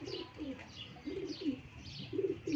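Teddy and Kamagar pigeons for sale in Lahore coo close by in short, repeated throaty phrases, with a few soft chirps mixed in.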